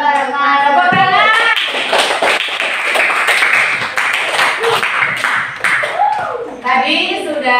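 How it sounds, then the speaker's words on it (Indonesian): A group applauds at the end of a student's classroom presentation, steady close clapping that continues for several seconds while voices talk and call out over it. "Tepuk tangan"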